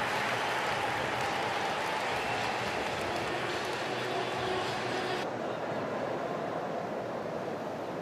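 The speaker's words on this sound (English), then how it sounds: "Arthur Ashe Stadium, cheering on both guys." Crowd at Arthur Ashe Stadium during a US Open fourth-round tennis match, a dense continuous roar of cheering and applause that holds steady throughout, with a commentator's voice faintly underneath.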